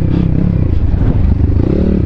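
A BSE Z7 motorcycle rides past an old industrial site, its engine giving a loud, low, throbbing drone with slight rises and falls in pitch across a short stretch, accompanied by rattly clatter and no speech.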